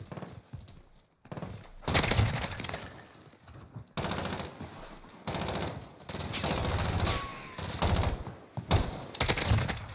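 Bruen Mk9 light machine gun fired in the video game Modern Warfare: loud sustained automatic bursts broken by short pauses, with thumping impacts and no talk.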